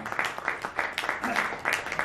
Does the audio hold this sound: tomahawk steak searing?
no